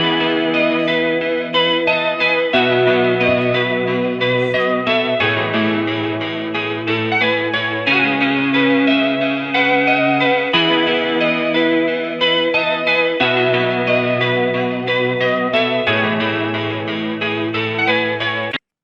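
A looping, effects-drenched software-rendered electric guitar pattern in FL Studio, pitched down 100 cents, with shimmering chorus and mild distortion, chords shifting in a steady repeating cycle, played alone and continuously.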